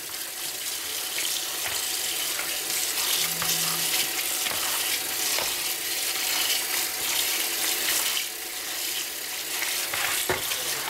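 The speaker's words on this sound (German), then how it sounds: "Jetzt kippen wir den einfach ab. Und spüre den einmal kalt über." Cooked cabbage is poured off and rinsed under cold running water, giving a steady close splashing rush with a few clinks from the pot or sink.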